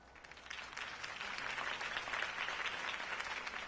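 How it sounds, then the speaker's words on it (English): A crowd at a campaign rally for Harvey Dent applauds after his speech, a sustained, moderately distant wash of clapping with no talk over it. "could have heard that applause"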